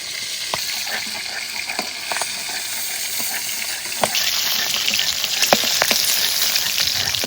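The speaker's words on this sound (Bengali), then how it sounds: "তাজা মাছ একটু হালকা ভেজে নিচ্ছে" Fresh magur and jiol fish frying in hot oil, a loud dense hiss throughout that swells halfway through, with occasional sharp pops and spits, close up and without speech.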